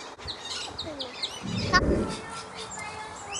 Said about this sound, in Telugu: పిట్టలే అమ్మా, అదిగో అదిగో పిట్ట, అదిగో కనపడిందా